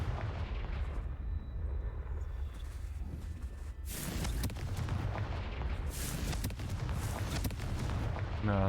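The Confringo blasting spell in Hogwarts Legacy lands as a series of loud booming blasts and crackling impacts over a dense rumbling game backdrop.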